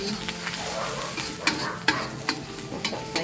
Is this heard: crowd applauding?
no